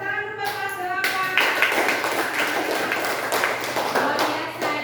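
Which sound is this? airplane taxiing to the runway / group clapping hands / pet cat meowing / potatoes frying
group clapping hands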